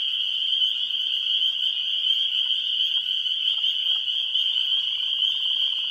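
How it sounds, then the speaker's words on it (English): A dense frog chorus in a marsh carries on without pause, with leopard frog snore calls mixed into the steady high calling of other frogs, all fairly loud and close, with no talking. "We're starting to hear more of the leopard frog,"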